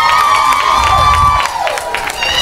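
A live crowd of single women yells and cheers in loud, high-pitched whoops that overlap continuously, close and boisterous throughout the short burst, with a few claps mixed in.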